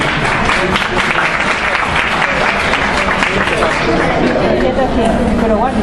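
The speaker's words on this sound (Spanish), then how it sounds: "Aplausos y bienvenidos." Applause from a seminar audience fills the room, steady, dense and loud clapping that carries on without a break.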